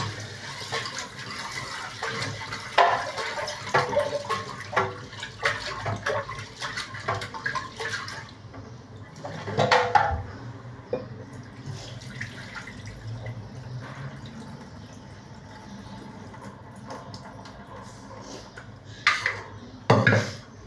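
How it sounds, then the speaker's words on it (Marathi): Dal lentils are washed under running tap water in a kitchen, with uneven splashing and trickling, occasional drips and the clink of a metal vessel, all close and fairly soft. "इकडे डाळ घेते मी. आता धुवून घेते तिला."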